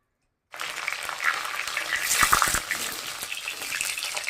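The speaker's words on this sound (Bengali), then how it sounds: "মাছের মাথাটা ভাইজে নেব, তাই আমি তেল দিয়ে দিচ্ছি" Oil sizzles and crackles steadily after a brief silence, with a burst of sharper spitting pops midway as a fish head fries in a pan.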